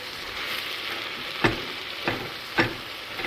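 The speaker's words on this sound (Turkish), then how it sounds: "Patlıcan pişiriyorum." Steady hiss of sliced eggplant sizzling in a hot pan, with a few sharp clinks and scrapes of stirring breaking through at intervals.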